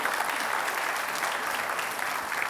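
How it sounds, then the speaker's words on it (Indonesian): A studio audience applauds the two candidates in the final Jakarta gubernatorial election debate. The clapping is dense and even, forming a steady wash with no talk over it. "kita beri tepuk tangan untuk kedua kandidat"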